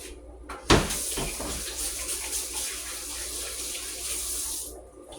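Tap water runs in a steady hiss into a sink during handwashing, starting after a brief knock and splashes and cutting off near the end, with no talk.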